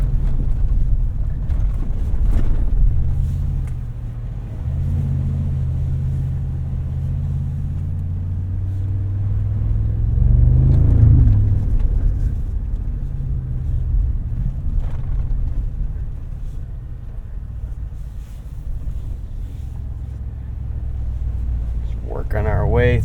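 A 2025 Mercedes-AMG G63 crawls along off-road trails, its engine a low steady rumble that swells briefly as it climbs, with wind buffeting and someone talking over the drive.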